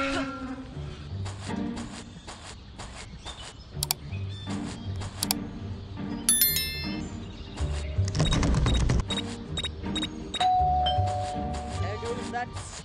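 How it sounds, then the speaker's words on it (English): A doorbell chime rings in the horror game Scary Teacher 3D, a bright tonal ding heard amid busy game effects and background music, with bursts of louder clatter around it. "There goes that stupid bell again."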